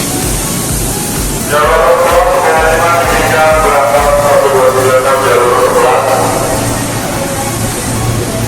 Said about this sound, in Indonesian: inilah aktivitas di stasiun Manggarai